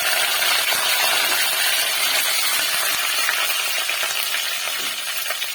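Vadagam and curry leaves sizzle in hot oil for a tempering, giving a loud, dense, continuous crackling hiss up close that fades slightly toward the end.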